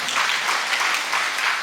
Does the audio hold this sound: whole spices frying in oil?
no